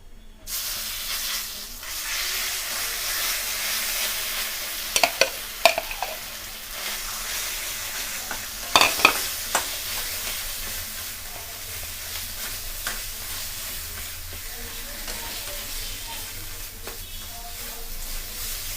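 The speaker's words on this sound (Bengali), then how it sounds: "দিয়ে ভালো করে আমরা ভেজে নেব" Ground yardlong bean paste fries in a pan with hot hing, giving a steady broadband sizzle with a few sharper spatter pops and stirring scrapes near the middle, close up and without talk.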